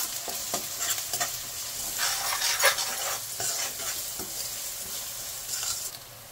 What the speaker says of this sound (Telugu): అల్లం వెల్లుల్లి పేస్ట్ పచ్చివాసన పోయేంత వరకు వేయించుకుంటే సరిపోతుందండి